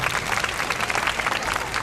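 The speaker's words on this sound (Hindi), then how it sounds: "सोफिया के लिए तालियां।" Children's audience at a storytelling performance at Mohatta Palace claps for a girl after her answer, a brief, steady burst of dense applause with some chatter mixed in.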